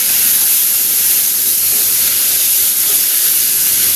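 Fish fries lightly in a pan with a loud, dense, continuous hiss of spitting oil, an even close-up sizzle that holds steady throughout without any voices.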